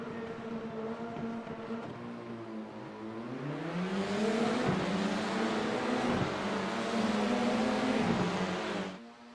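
Formula 4 race cars at Sandown Raceway drone past, engines rising in pitch as they accelerate, loud and sustained before cutting off abruptly.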